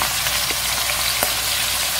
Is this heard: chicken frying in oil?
yes